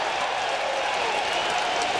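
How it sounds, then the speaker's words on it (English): Baseball stadium crowd during Randy Johnson's perfect game cheering and applauding, a dense steady wash of clapping and roaring voices from the stands, sustained and fairly loud throughout. "And the crowd is into this thing now, rooting for Randy Johnson"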